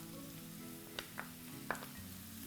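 Onion and tomato sauté in a pan with a soft, steady sizzle, broken by a few faint clicks and taps.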